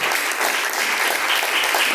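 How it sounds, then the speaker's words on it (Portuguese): A church congregation claps joyfully for Jesus at a Brazilian Pentecostal service, a dense, steady wash of applause from many hands, loud and continuous throughout with no voices standing out. "as palmas alegres para Jesus"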